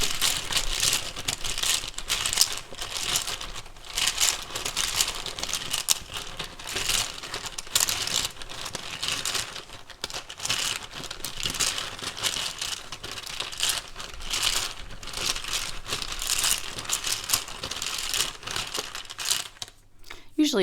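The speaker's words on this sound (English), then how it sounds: "Usually I just shuffle till it feels right." Tarot cards being shuffled in dense, continuous riffling and rattling bursts, close and steady for most of the clip, ending with a brief pause.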